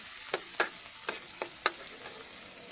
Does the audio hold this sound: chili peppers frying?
yes